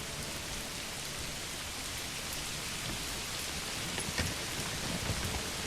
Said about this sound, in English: This just looks epic in the rain.